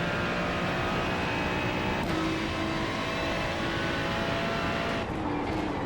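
A Ferrari 296 GT3 in iRacing at Okayama accelerates out of a corner, its engine note loud and continuous as the revs climb, with a brief shift in pitch partway through.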